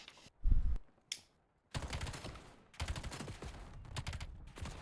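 Gunfire in Call of Duty on a PS5 in a 4v4 match: a sharp burst, a brief pause, then rapid crackling automatic fire in close bursts that continue to the end, with no talking.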